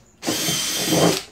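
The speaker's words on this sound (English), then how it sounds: "You kind of swirl the drill," A power drill spins a salad spinner basket of washed salad greens, a sudden steady whirring burst that starts abruptly, runs for about a second and then cuts off.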